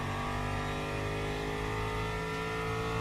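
A Ford Mustang GT3 race car engine in the racing game Le Mans Ultimate, a steady loud droning roar with strong harmonic tones held at constant revs throughout, heard alone without voices.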